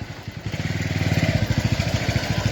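A motorcycle engine idles and chugs close by while the bike is being parked, with a rapid, even putter of regular pulses that holds steady throughout.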